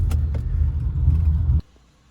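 A car engine on a speed density tune idles roughly, starved of idle airflow, with a low, uneven rumble that cuts off abruptly near the end.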